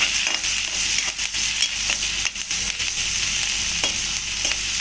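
Green chillies fry in hot oil for an egg masala curry, a loud continuous sizzle broken by a few light stirring scrapes, close up with no talking.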